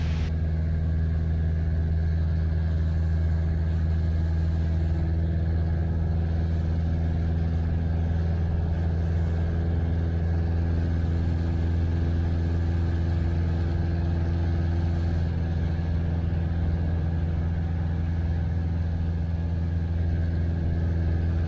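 A small training airplane's engine drones loud and steady, a constant low rumble with a faint higher whine that holds without pause throughout.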